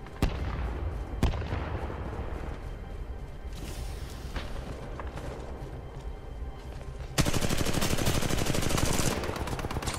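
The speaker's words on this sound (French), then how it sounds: "Hop, on harcèle de grenades." Repeated explosions and gunfire from grenade spam in the video game Titanfall 2, a dense continuous barrage of blasts and shots that turns louder and harsher about two-thirds of the way through.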